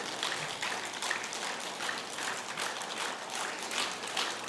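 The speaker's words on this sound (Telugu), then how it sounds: "ఒకసారి గట్టిగా క్లాప్స్ కొడదాం" An audience at a Mahavatar Babaji birthday celebration in Vijayawada claps steadily, a dense, even patter of many hands sustained at moderate volume throughout.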